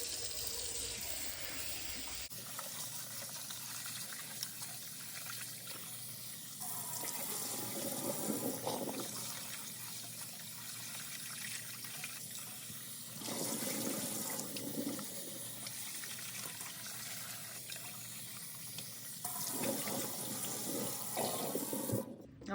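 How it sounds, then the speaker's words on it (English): Tap water runs steadily into a sink for a long stretch, with swishing and splashing as rice is rinsed in the stream, pausing and resuming. "Wash it 3 times till the water comes clear."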